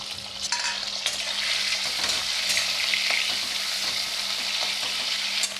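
Prawn heads fry in hot oil, giving a steady, loud sizzle with stirring clinks for the whole stretch, close up and with no talking.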